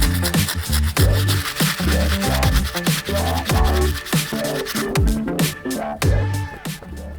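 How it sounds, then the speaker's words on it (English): A sole brush scrubs the soles of Air Max 180 sneakers with cleaning solution, giving loud, rapid back-and-forth rubbing strokes in a continuous close-up rhythm. "And get started with the sole brush to clean the soles."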